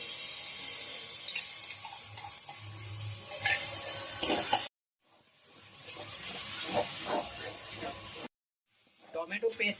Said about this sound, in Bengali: ভাজা মশলার মধ্যে দিয়ে দেবো টমেটো পেস্ট